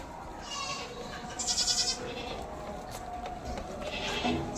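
Young Boer goat kid about a week old bleating in several short bursts on a farm, the cries fairly close and clear over a low background murmur.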